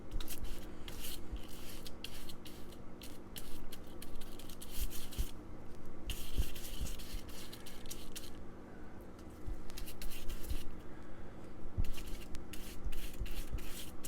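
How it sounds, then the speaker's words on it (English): Epoxy is mixed on a workbench for gluing guitar fretboard veneers, a steady close scraping and rubbing that keeps on with brief pauses throughout, with no talk. "just mix the epoxy"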